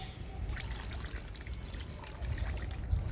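Water is poured onto the soil of a potted drumstick plant being repotted, a steady close trickle and splash that runs unbroken for about three seconds and swells slightly near the end.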